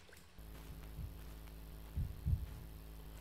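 Low heartbeat thumps in a scary video game, a few soft deep pulses over a constant low hum, quiet and spaced irregularly, with no voices.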